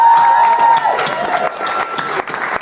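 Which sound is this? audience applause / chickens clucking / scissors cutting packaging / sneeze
audience applause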